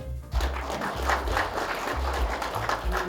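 An audience at a Vietnam War veterans' association workshop in Incheon applauds in a sustained, dense wash of clapping that stays steady and fairly loud, with low rhythmic thumps running underneath.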